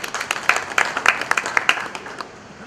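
A seminar audience at a motivational talk on success claps briefly in a quick, rhythmic burst that thins out and fades within a few seconds.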